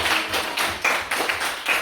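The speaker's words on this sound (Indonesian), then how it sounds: "Oke, kasih tepuk tangan lagi." Schoolchildren in a classroom clap in a steady, rhythmic pattern of sharp beats, close and fairly loud, over a short stretch with no talking.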